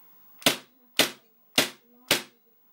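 KWA MP9 gas blowback airsoft submachine gun fired in single shots: four sharp, loud cracks spaced about half a second apart, each with a short decaying tail, standing alone in a quiet room.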